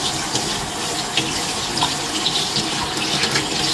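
Tap water runs steadily into a sink while a mudfish is washed, a close continuous splashing hiss with small irregular splatters and no talk.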